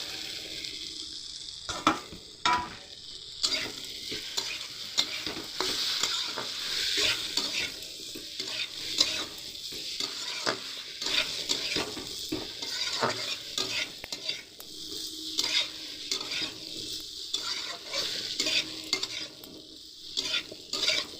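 Fried cauliflower and potatoes stirred with spices in a pan make a continuous close sizzle, overlaid with repeated scraping and clinking strokes of a spoon against the vessel in an irregular rhythm.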